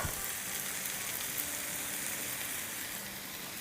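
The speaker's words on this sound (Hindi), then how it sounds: "और इसको उलट पुलट के अच्छे से पका लेंगे।" Minced chicken sizzles steadily in a hot pan with garlic powder, salt and other spices, a constant close crackling hiss with no voices.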